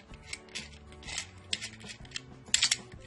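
A decades-old ratchet wrench, freshly cleaned of grease, dirt and rust with washing detergent, clicks as its mechanism is worked in several short, close bursts of metallic ratcheting.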